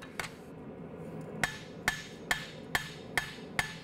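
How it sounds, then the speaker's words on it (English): A lily hammer strikes a barong blade during forging, ringing out in a steady series of six sharp metallic hits after one earlier blow, close by over a low workshop hum. "I'm gonna use the flat side with my lily hammer here. This thing hits so hard."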